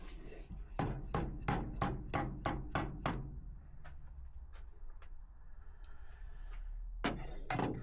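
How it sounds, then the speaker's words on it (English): Someone knocks on a rusty Harley-Davidson gearbox part held over a tray, giving a quick series of about eight sharp metallic raps, then a few scattered lighter taps and a final pair of knocks, all close and clear. "give it a little knock with a tray under it, in case there's any oil in there"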